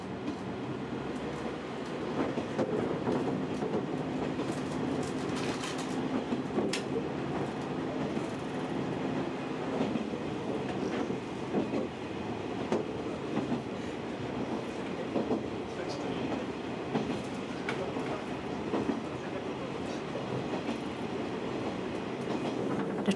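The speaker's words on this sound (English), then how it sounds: "over 150 bullet trains crisscross Japan" Japanese bullet trains running on rails, a steady broadband rumble with rhythmic rolling clatter and a brief tonal whine, continuous and fairly loud throughout.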